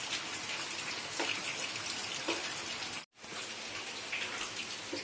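Steady heavy rain pours outside on a dark day, a dense, even hiss close by that drops out briefly for a moment before resuming.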